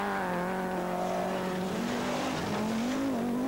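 A 1982 Audi Quattro rally car, a David Sutton-prepared four-wheel-drive 330 horsepower five-cylinder turbocharged machine, drives at speed on a Welsh rally sprint stage, its engine droning steadily and rising in pitch as it pulls.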